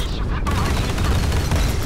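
The H/PJ-45B cannon in the Modern Warships naval combat game fires continuously at an enemy bomber, a dense, loud, unbroken roar of rapid booming shots with no gaps.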